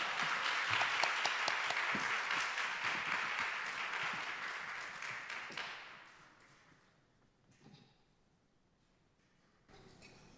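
Congregation applause in a church hall welcoming a child to the front, a dense burst of many hands clapping that fades out after about six seconds, leaving quiet room noise with a few faint taps.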